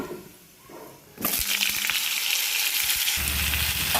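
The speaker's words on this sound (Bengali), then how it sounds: "সবজিটা এখন ভালো করে ভেজে নেব" Oil bursts into a loud, steady sizzle after a quiet second, vegetables frying close by with a few soft stirring scrapes near the end.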